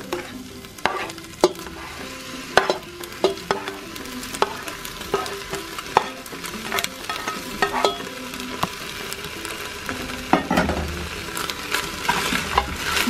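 Pork and a stewed sauce sizzle in a pot for arroz atollado while a spoon stirs them, with steady frying hiss and repeated sharp scraping knocks of the utensil against the pot throughout.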